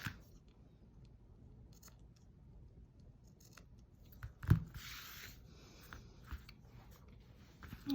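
Scissors snip through ribbon close up, a quiet pause and then a single sharp cut followed by a short rustle, in a still room.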